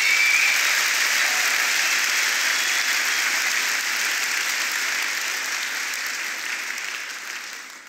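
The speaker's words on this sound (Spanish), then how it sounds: "Fuerte aplauso." Applause fills a church during a Spanish-language sermon, a dense, steady clapping from a congregation that holds strong for several seconds and then gradually fades toward the end.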